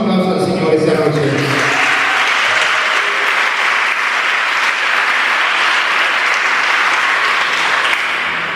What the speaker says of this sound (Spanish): demos un aplauso al Señor esta noche